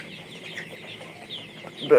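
A flock of about a thousand colored broiler chickens clucks softly in a farm shed, a steady low murmur of fowl with a louder burst of clucking right at the end.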